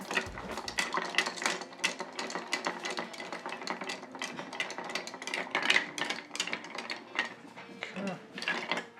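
Ice stirred in a mixing glass while making a Boulevardier cocktail: quick, steady clinking and rattling with a soft, close, continuous rhythm.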